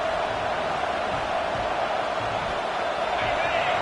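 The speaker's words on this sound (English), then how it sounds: "This crowd trying to make life miserable for this offense" Steady roar of a stadium crowd in a college football video game at Michigan, a dense, unbroken wash of cheering noise with no distinct voices standing out.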